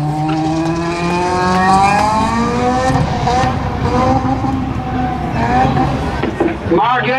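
Honda and Pontiac Class B stock cars launching together from the green flag in a drag race at Oxford, their engines roaring loudly and climbing through the gears in rising, overlapping tones, with a commentator's voice over them.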